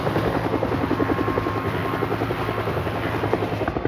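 A helicopter lands in a forest clearing, its rotor chopping in a fast, steady rhythmic thump with engine whine, loud and close throughout.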